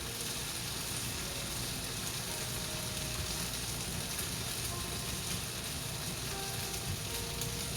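Onions and garlic frying in a pan for fried rice, a soft, steady sizzle that holds evenly throughout, heard faintly and alone without talk.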